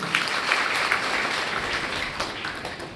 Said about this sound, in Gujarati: ગાંધીનગરની સમસ્ત ટીમ માટે આપણે જોરદાર તાળીઓ થઈ જાય.